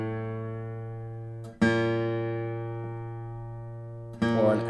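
A single acoustic guitar string retuned from E up to F, plucked and left to ring with a long, clear decay, then struck again twice, each attack bright and close with no voices.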